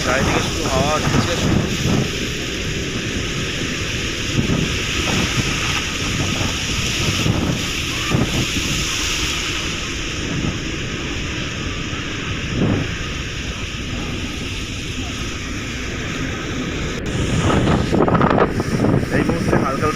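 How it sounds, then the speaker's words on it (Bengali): Gusty cyclone wind from Cyclone Mocha with light rain, roaring steadily and loudly against the microphone for the whole stretch, swelling stronger near the end. "এই মুহূর্তে হালকা হালকা বৃষ্টির সঙ্গে যে ঝোড়ো হাওয়া দিচ্ছে"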